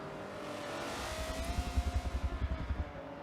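Corvette GT1 race car in a racing video game at the Nurburgring, engine droning and then pulsing in a rhythmic rumble as it revs through gears, fairly faint and steady with no voices.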